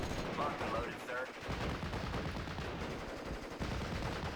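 Rapid rifle fire crackles steadily across a Normandy battlefield in Steel Division: Normandy 44, a constant clatter of shots with brief voices mixed into the combat noise.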